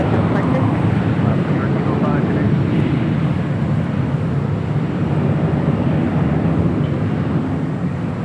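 Jet airliner taking off from runway 24 left at Los Angeles International Airport, a steady broad roar that holds loud and continuous throughout with no clear build or fade.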